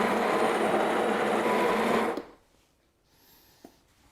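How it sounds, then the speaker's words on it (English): Grinder of a Sage Barista Express espresso machine grinding coffee beans, a loud steady whirring buzz for about two seconds that cuts off abruptly, followed by quiet with a faint knock. "Just activate the grinder."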